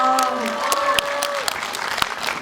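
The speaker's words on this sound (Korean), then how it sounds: "여러분들 큰 박수 부탁드릴게요" An audience applauds at a film screening event in a Lotte Cinema hall, sustained clapping with sharp individual claps standing out as a held tone fades early on.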